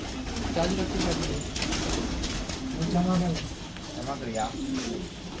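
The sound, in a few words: pigeon cooing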